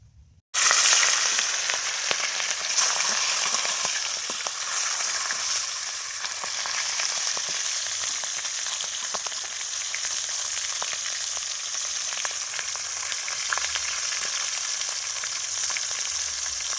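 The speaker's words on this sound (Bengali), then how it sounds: "এবার আমি মাছের মাথাটা ভেজে নেব।" Fish head frying in hot oil in a wok, giving a loud, steady, crackling sizzle that runs unbroken from just after the start to the end, with no voices.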